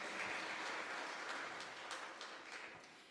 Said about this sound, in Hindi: एक बार जोरदार ताली बजाएंगे।